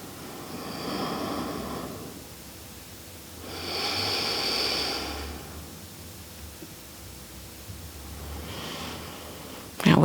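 Slow, soft breaths during a gentle hatha yoga session come in three long airy swells spaced a few seconds apart, close and quiet over faint background hiss.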